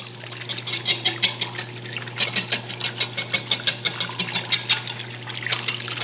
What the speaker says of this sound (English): just a nice quick way to mix the two together